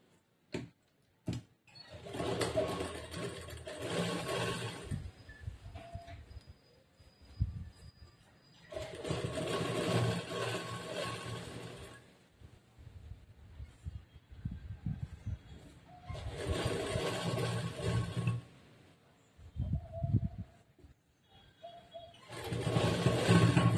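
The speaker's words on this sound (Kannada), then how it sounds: "ಈಗ ಹಾಕಿರೋ ಹೊಲಿಗೆ ಮೇಲೆನೆ ಇನ್ನೊಂದು ಹೊಲಿಗೆ" A sewing machine runs a second line of stitching over the first along a blouse seam, whirring in four separate close bursts with quiet pauses and small handling sounds between them.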